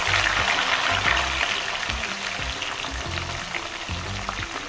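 A slice of ginger and about five garlic cloves sizzle and fry in hot oil in a pan, a steady broad hiss with low rhythmic stirring thumps, close and fairly loud, with no talking.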